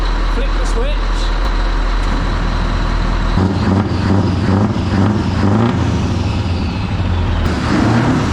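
A Scania truck's diesel engine cranks and fires after a quiet start, then settles into a loud, steady rumbling idle close by with some clatter.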